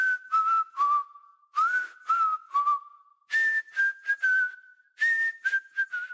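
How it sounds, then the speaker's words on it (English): A character in the video game Deadlock whistles a lilting tune, close and clear, in short phrases separated by brief pauses and heard alone. "Want me to whistle us a little tune while we run?"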